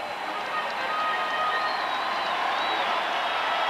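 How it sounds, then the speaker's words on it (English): Basketball arena crowd on its feet cheering the Chicago Bulls during the 1997 NBA Eastern Conference Finals, a steady, loud roar of cheers and applause filling the whole building without a break. "They're on their feet cheering the Bulls, who are headed to the NBA Finals for the 5th time the last 7 years."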